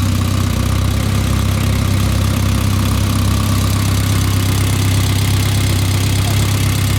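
A restored Renault 4CV classic car engine runs at idle, giving a loud, steady, close rumble with a continuous low throb and no talk.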